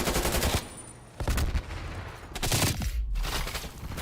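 Gunfire in a competitive multiplayer shooter match: bursts of rapid automatic fire with sharp cracks, broken by short gaps, loud and close.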